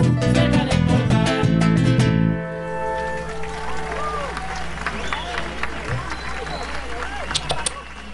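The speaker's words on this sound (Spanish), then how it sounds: "Fuertes esos aplausos" Concert audience applause breaks out after a song ends, the music cutting off and steady clapping continuing at moderate loudness with crowd murmur mixed in.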